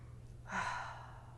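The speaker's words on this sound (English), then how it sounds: "I just take a big breath." A person takes one big deep breath, a single close, airy inhale-exhale like a sigh, alone against a quiet background.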